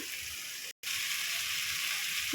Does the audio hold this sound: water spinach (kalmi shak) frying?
yes